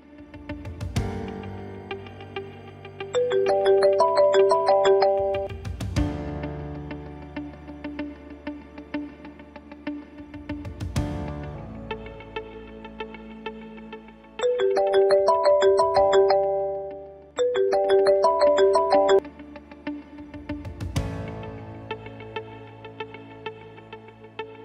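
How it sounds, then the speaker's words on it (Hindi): A mobile phone plays a melodic ringtone that goes unanswered, ringing in repeated bursts separated by pauses and gently struck tones across roughly twenty-five seconds. "फोन क्यों नहीं उठा रहा?"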